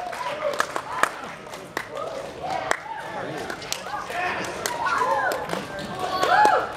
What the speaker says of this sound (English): let's hear some applause for ones that you like